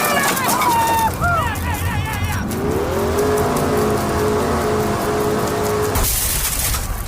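A truck engine roars and revs in a radio drama scene, loud and close, with shouting voices over it and a steady mechanical drone before it cuts off abruptly.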